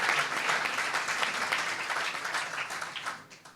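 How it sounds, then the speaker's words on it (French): An audience at a founding assembly of the UVP applauds a singer after his two songs, a loud, sustained wash of many hands that fades slightly toward the end. "je vous demande de l'applaudir de nouveau pour ces deux chansons qu'il a faites"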